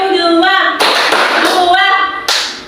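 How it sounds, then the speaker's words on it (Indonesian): A group clapping hands in time to a count, with several sharp bursts of applause-like claps while a voice calls the numbers over them. "Oke, tepuk 1, tepuk 2, tepuk 3, tepuk 3, tepuk 2"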